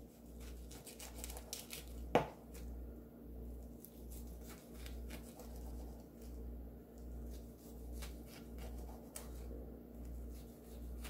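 A knife cuts through a kimbap roll brushed with sesame oil and salt, giving soft, faint squishy slices in an irregular series over a low steady background hum.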